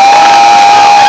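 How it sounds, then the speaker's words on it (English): A high school audience applauds and cheers after a post-graduation hypnotism show: a loud, dense burst of clapping and crowd noise, with a steady ringing tone running underneath. "Big round of applause for all of our people."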